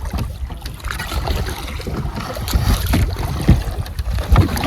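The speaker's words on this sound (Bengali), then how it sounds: "হাওয়ার পরিস্থিতি এত খারাপ, আর এত প্রচন্ড ঢেউ হচ্ছে" Strong wind and rough river waves around a fishing boat in the Sundarbans, gusty buffeting and irregular slaps of water against the hull, close and uneven.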